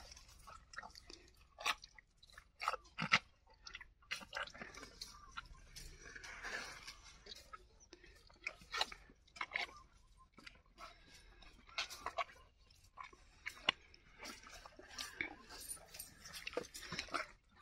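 A dog chewing and eating a dessert outdoors after a bath, with close, faint, irregular smacking and crunching bites repeated throughout, and occasional soft background sounds.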